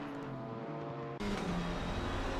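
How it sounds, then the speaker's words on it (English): Alpine GT4 race car engine in a racing video game at the Nürburgring, a steady tonal drone that jumps abruptly to a louder, harsher pitch halfway through, with no talk. "This car sounds like a road car, mainly because it is."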